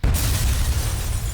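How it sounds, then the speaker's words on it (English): A loud explosion sound effect bursts in and holds a dense, rumbling roar with heavy low-end boom for the whole moment, no voices over it. "Right out there went the explosion."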